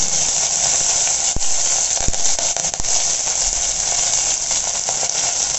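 Steady sizzling of chopped onions sautéing in hot oil, continuous crackle and hiss close by with a few sharp pops.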